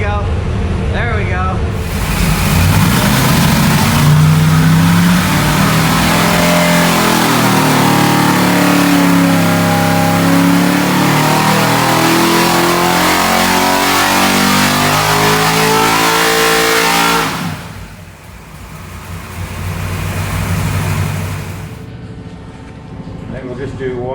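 A 1000 hp naturally aspirated big block Mopar engine revs loud and close, holding a sustained roar with rising and falling pitch before dropping back toward idle near the end.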